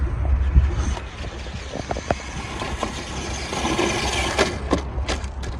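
A WPL D42 RC truck driving off-road, a small electric motor whirring with rattles, bumps and clicks of the body over rough ground, close and moderately loud, no talking.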